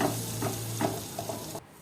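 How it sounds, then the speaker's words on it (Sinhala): Breadcrumbs are stirred into melted butter in a hot pan, giving a steady sizzle with rhythmic scraping strokes of the spoon, close up, that cut off abruptly near the end; no talking. "ඊළඟට පාන් පිටි ටික බටර් ටික හොඳට මික්ස් කරන්න ඕන තනි මිශ්‍රණයක් වෙනකම්."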